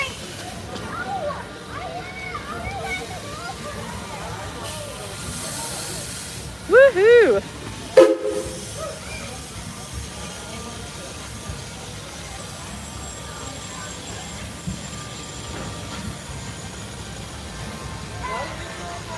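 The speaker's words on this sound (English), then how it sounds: "There is ye old train right there." An old steam train at Silver Dollar City theme park gives a steady low hiss under nearby talk, with a short whistle-like blast midway and a cheer from the crowd.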